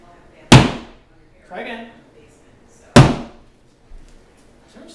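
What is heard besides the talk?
hammer knocking a hole in a wall during demolition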